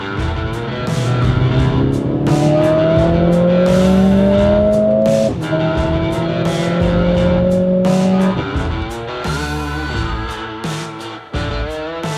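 A 2022 Mercedes CLA 45S AMG with its 2.0-litre turbo four revs hard, climbing through gears in rising sweeps with sharp shift breaks, loud and close, with tire squeal, then settling to a lower drone.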